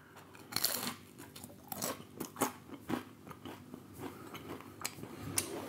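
Walkers Max Strong Hot Sauce Blaze crisps are crunched and chewed close to the mouth, giving a quiet, uneven run of crisp bites and crackly chewing with no talking.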